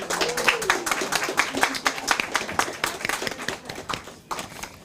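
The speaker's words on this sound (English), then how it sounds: "So give them a big round of applause," A round of applause from the audience at the Splatsin Winter Feast 2025, thinner, uneven clapping close by with voices and a sustained tone running underneath.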